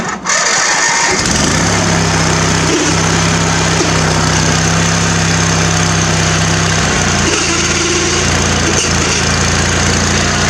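Craftsman riding lawn mower engine cranks and starts, then runs loudly at a steady mid-pitched drone up close, with a shift in pitch as it revs near the end.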